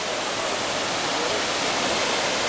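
Edessa waterfall in Greece, a double cascade beneath a footbridge, roars as a steady, dense broadband rush of falling water, close and unbroken throughout.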